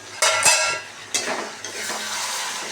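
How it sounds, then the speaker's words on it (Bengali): Black cumin seeds and a dried red chili tempering in hot oil in a home kitchen, giving a close crackling sizzle with sharp spits and pan clatter in several bursts before settling into a steady fry. "একটু কালো জিরে ফোড়ন দিই একটা শুকনো লঙ্কা ফোড়ন দিই একটু তেলে দেবো"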